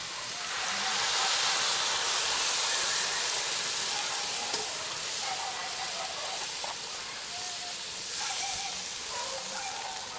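Coconut milk poured over vegetables cooking in a hot pan, giving a steady, close sizzling hiss that holds evenly throughout with faint bubbling.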